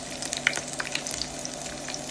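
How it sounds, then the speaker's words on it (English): Onions fry in hot oil in a pan over medium-low heat, a steady close sizzle with small crackling pops throughout. "So put your onions in the hot oil."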